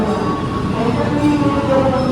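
The Gaya Baru Malam train pulls through Lampuyangan station with a steady, loud rail rumble and a thin wheel squeal drawn out midway.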